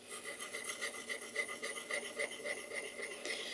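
A plane blade is being honed on a sharpening stone, steady rhythmic rasping strokes back and forth, close and fairly quiet, with no voices.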